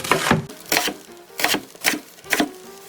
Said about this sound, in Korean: 팽이버섯은 송송 썰어주세요